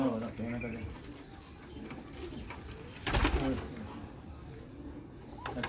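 Sialkoti pigeons coo in low, repeated rolling calls close by, while people talk over them and a brief loud rustle or flutter breaks in near the middle.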